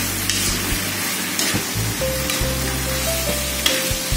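Cabbage cooking in a pan for chicken tongseng, a steady close sizzle with occasional stirring scrapes, under a low droning hum that cuts in and out.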